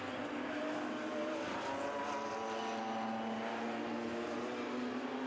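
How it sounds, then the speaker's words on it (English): GT Cup race cars run their formation lap at Knockhill circuit, forming up side by side for a rolling start. Their engines make a steady, somewhat distant drone with slowly shifting pitch that lasts throughout. "Cars on their formation lap."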